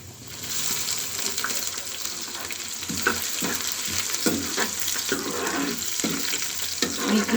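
Garlic and ginger frying in desi ghee in a pan: a continuous close, crackling sizzle with regular spoon strokes stirring through it, steady and moderately loud with no talking.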